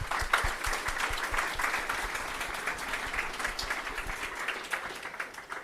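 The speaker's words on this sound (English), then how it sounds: "Let's give a round of applause for Parth again." An audience applauding after a conference presentation, a steady, even wash of many hands clapping at a moderate distance, sustained without a break and fairly quiet overall.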